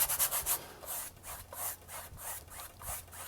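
A brush rubs Payne's gray paint onto canvas in quick, scratchy back-and-forth strokes, close and fairly soft, with a steady dry rasping rhythm and no talking.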